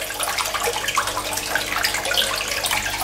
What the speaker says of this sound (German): Wir lassen das Wasser nicht direkt ins Aquarium rein, sondern in eine kleine Box